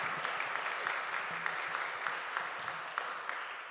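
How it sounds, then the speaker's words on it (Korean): A church congregation at a Friday prayer and worship service claps in praise, a steady crowd applause with some sharper individual claps standing out, loud and continuous throughout. "우리 먼저 하나님께 감사와 영광의 박수를 올려드리겠습니다"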